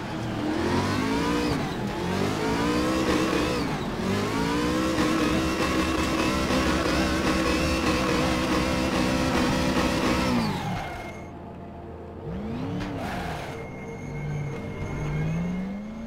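Race car engine in the Raceroom racing game revving hard as it gets going again on track, rising and falling shifts through the gears, then easing to a lower drone with a brief whine near the end.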